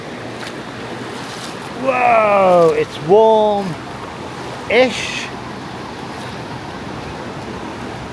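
Gentle sea waves wash steadily around a swimmer in warm water off a Brazilian beach, a soft continuous surf background while a person speaks briefly and exclaims close by.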